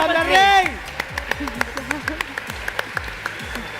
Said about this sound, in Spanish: un aplauso fuerte para este juegazo